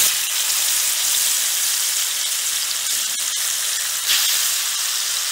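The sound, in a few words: meat frying and sizzling at a barbecue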